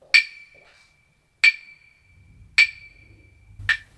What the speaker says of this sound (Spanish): Estos palitos son las claves acústicas.